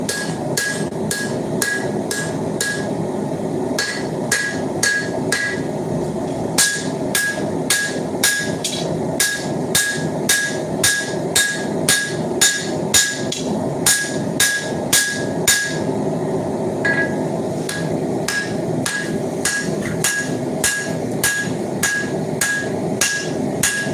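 A lighter hammer forging a steel blade on an anvil, striking in a steady, rapid rhythm of sharp ringing blows, loud and close, with a brief pause partway through before the regular strikes resume.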